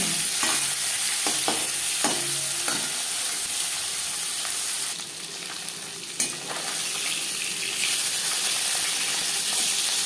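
Rohu fish pieces rubbed with salt fry in hot oil, a loud steady sizzle and hiss with brief stirring clinks early on and a softer patch midway.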